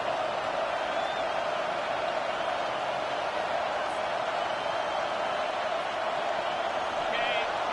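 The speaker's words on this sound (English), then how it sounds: "this crowd is rising to the occasion" A football stadium crowd roaring during a late fourth-down play in an Eagles game, a steady dense wall of crowd noise with faint whistles and whoops, broadcast commentary running over it.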